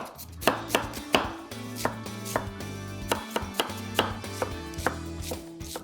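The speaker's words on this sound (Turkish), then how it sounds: "Öncelikle soğanı doğramakla başlıyoruz." Steady knife chopping of onion on a cutting board, crisp rhythmic thuds close by, with a low hum underneath and no voices.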